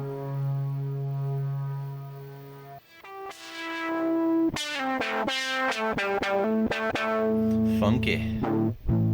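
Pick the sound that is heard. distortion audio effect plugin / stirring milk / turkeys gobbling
distortion audio effect plugin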